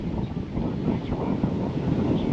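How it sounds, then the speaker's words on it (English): Strong gusts of about 40 mph batter the microphone outdoors at a Wisconsin rock-bed job site, producing a constant loud buffeting roar with low thumps throughout. "it's like 40-mile-an-hour winds here now"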